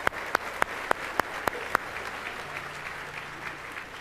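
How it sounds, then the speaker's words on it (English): Gala audience at the MusiCares tribute honoring Paul Simon breaks into applause, opening with a few sharp, loud claps close by before settling into a softer, continuous crowd clapping. "Big round of applause."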